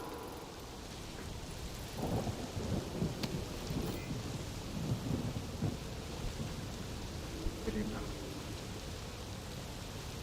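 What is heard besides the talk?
rain and thunder in the video game Death Stranding 2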